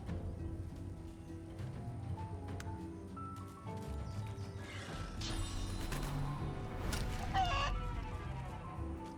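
Chicken clucking in the video game Divinity, repeated squawks and clucks over busy game sound effects and music, with a crash and rising clatter in the second half.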